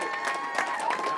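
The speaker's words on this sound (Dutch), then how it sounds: "En dan wil ik een daverend applaus hier voor deze kanjers." Spectators at a children's carnival parade break into loud, dense applause and cheering, a continuous burst of clapping close by.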